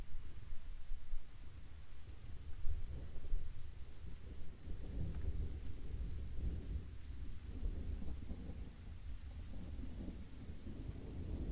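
A thunderstorm rumbles outside with deep, rolling thunder over a steady wash of heavy rain, loud and continuous throughout with no voices.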